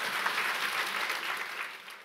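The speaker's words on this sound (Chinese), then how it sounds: "给奥斯卡影帝一个掌声" Church congregation applause during a pastor's sermon: a dense, even patter of many hands clapping together, holding steady before easing off slightly at the end.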